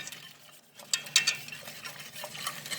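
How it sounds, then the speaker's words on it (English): Flour is whisked quickly into chocolate gravy in a pan, giving quiet, rapid scraping and tapping strokes with a few sharper clicks against the metal. "Now we're gonna give that a whisk because that flour's gonna want to lump up on me. So we gotta have to stir fast."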